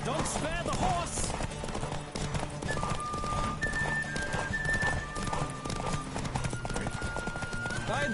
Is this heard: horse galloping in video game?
yes